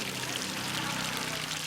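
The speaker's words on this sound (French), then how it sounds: "l'eau coule des robinets" Water runs steadily from taps supplied by a borehole with a solar-powered pump, a close, continuous pouring rush with no pause across the short stretch.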